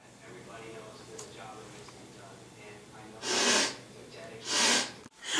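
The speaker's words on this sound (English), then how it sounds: "Oh, I think I'm gonna sniff it." Two sharp, close sniffs from a person, each a short breathy burst of air drawn in through the nose, following a stretch of quiet room tone.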